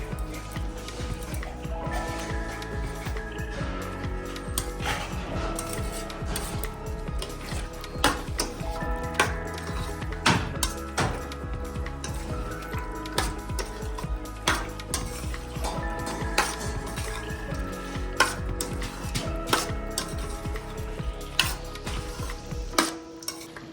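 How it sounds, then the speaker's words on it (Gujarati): Pasta tossed into a tomato gravy with oregano and chili flakes, stirred in a pan with repeated ticking and clinking of a spoon against metal over a soft steady cooking hiss and faint background noise. "ગ્રેવી રેડી થઈ ગઈ છે. પાસ્તા એડ કરી દઈશું."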